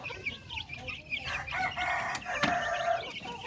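Darag native chickens and chicks in a backyard farm, with a rooster crowing and hens clucking close by, busy overlapping calls running throughout.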